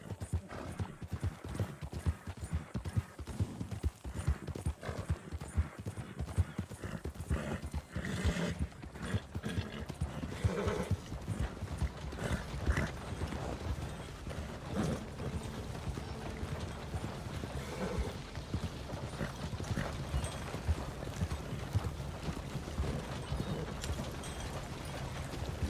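Horse hooves clip-clop steadily in the video game Red Dead Redemption 2, a continuous rhythmic trot with an occasional whinny over outdoor ambience and faint background voice.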